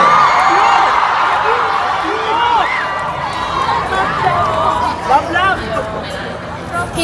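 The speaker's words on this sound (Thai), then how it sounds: "เป็นการที่ได้รับเสียงกรี๊ดที่ดังมากๆเท่าที่เคยเจอมาเลยฮะ" Dense crowd of fans at a Love by Chance cast fan meeting in Manila, a loud sustained wash of high-pitched screaming and cheering with overlapping whoops rising and falling throughout.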